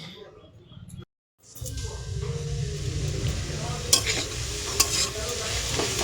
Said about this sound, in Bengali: নামিয়ে শাক ভাজাটা বসিয়ে দিই